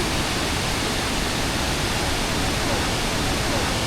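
Wulai Waterfall in Taiwan pours down in a steady, loud, continuous roar of gushing water that stays constant from start to finish with no voices over it.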